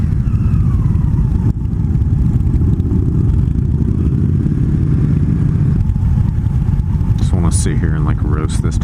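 An Indian Scout motorcycle's engine drones steadily and loudly while it rides, and wind rushes over it throughout. Near the end, brief rising engine tones come through.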